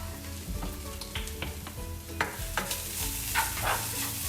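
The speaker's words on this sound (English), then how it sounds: "stir it all up." Coconut sweet potato chickpea curry stirred in a sizzling pan, a steady frying hiss under repeated scraping strokes of the spoon, close and fairly loud.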